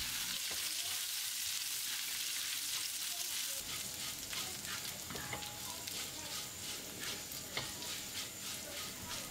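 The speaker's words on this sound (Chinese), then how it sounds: "再加入多一些的花椒和干辣椒段进行翻炒。" Sichuan peppercorns and dried chili pieces stir-fried in a wok for Chinese spicy chicken, a steady dense sizzle with repeated scraping stirs that grows louder partway through, close and without talk.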